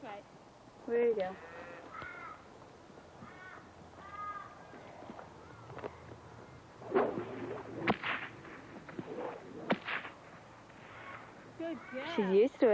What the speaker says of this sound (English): I learned to use the stock whip when I was probably young